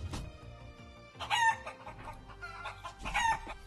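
A person imitates a chicken with loud, close clucking and crowing-like calls, in two main bursts against faint background music.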